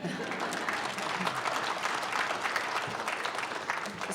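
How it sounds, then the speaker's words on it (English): Steady audience applause at a fall nurse pinning ceremony for a nursing graduate, an even, continuous wash of clapping held at moderate level throughout, with no pause. "you can clap."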